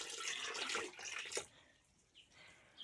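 Water is poured into blended apple and apricot pulp in a cooking pot, a soft splashing trickle for about a second and a half, then quiet with a few faint drips.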